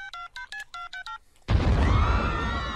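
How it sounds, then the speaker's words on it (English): A cell phone number is punched in as a rapid run of seven or eight distinct touch-tone beeps in an animated sitcom, followed after a brief pause by a loud, sustained burst of noise. "Maybe I dialed wrong."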